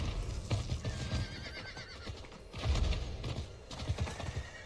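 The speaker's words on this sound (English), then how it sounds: "horse." Horse whinnying in Diablo IV, a drawn-out neigh over layered game ambience and hoof clatter, fairly close and moderately loud.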